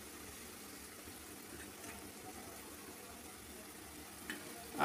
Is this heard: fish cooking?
yes